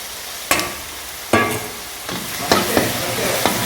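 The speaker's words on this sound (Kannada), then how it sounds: "ಅಲ್ಲಿ ತನಕ ಇದನ್ನು ಚೆನ್ನಾಗಿ ಸ್ವಲ್ಪ ದೊಡ್ಡ ಫ್ಲೇಮಲ್ಲಿ ಫ್ರೈ ಮಾಡ್ಕೊಳ್ಬೇಕು" Chili paste fries in a pan over high flame, a continuous sizzle broken by several sharp spatula scrapes and stirs at uneven intervals, close and fairly loud.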